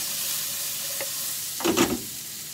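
Onion frying over slow heat in a pan for Japanese-style spaghetti Napolitan: a soft, steady sizzle with a brief louder burst of scraping and crackle near the end, no talking.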